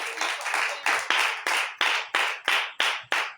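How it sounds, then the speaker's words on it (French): Congregation at a church service clapping hands together in a steady, rhythmic beat, about nine firm claps over a few seconds, fairly close and clear with no talk over it. "Donc, applaudissons pour elle."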